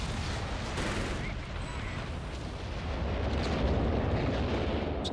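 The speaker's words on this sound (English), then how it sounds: "Just non-stop artillery at the moment." Continuous artillery barrages and booming explosions from the World War II strategy game Company of Heroes 3, a dense, unbroken rumble of blasts that swells slightly louder toward the end, with no clear gaps between impacts.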